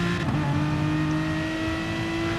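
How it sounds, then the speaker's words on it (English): A GT car in a racing sim at Monza, engine droning steadily and loud throughout with tonal whine from worn tyres at the limit through a corner, continuous and close with no talk. "You can just hear the tyres protesting."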